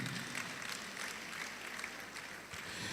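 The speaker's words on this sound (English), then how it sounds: "Can we hear that applause coming for him?" Applause from an audience at a birthday colloquium in Abuja, a steady soft wash of many hands clapping that sounds fairly distant and quiet, continuing evenly for the whole stretch without voices.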